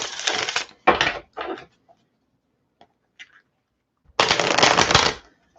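Tarot cards shuffled during a spiritual reading: three quick close riffles in a row, a near-silent pause with a few faint taps, then one longer, louder riffle.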